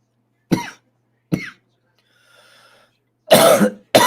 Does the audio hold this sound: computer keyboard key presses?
no